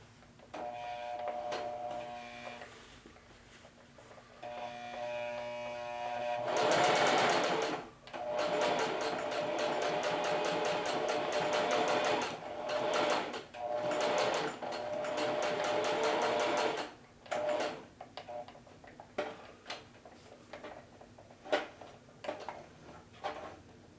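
Sewing machine running a straight stitch on a pocket, several steady whirring bursts of rapid needle clatter with short pauses between them, close and alone.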